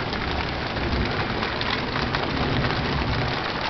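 During a late summer storm, heavy rain pours down as a constant, even hiss of dense drops across the whole stretch, with no talking.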